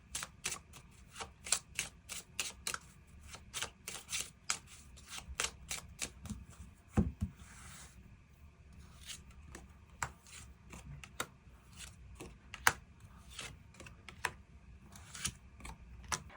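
Tarot cards are shuffled and drawn in quick, crisp riffles and flicks, fairly close and quiet, a dense run of papery snaps and taps that continues throughout with no talking.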